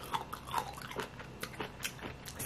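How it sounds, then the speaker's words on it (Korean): Someone eats a pickled plum side dish, with close, soft biting and chewing sounds in small irregular bursts and no talk. "아까 먹어봤지만 또 먹어보겠습니다."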